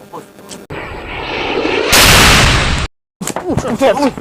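A rising hiss swells into a loud, roaring burst as a lighter explodes, cutting off abruptly, followed by brief silence and then excited voices.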